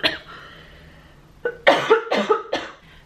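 A breath followed by a burst of several harsh, close coughs in quick succession, then quiet.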